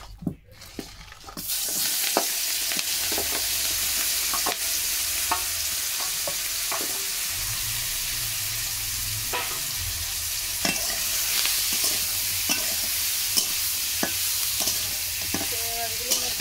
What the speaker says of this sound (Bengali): এখন চিংড়ি মাছগুলো দিয়ে আমি ভেজে নেবো।